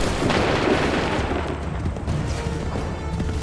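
A volley of musket gunfire booms in Assassin's Creed III, a dense, rumbling burst of overlapping shots that fills the whole moment and continues loudly without pause.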